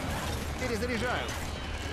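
Mechanical clacks and ratcheting of a weapon being reloaded in the zombie shooter Left 4 Dead 2, set in a dense wash of game noise with a voice briefly audible partway through.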